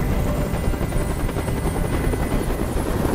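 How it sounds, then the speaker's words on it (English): A helicopter hovers in the Detroit video game, its rotor throbbing loud and steady throughout with dense low chopping and broadband wash, no voices present. "Tell that helicopter to get out of here."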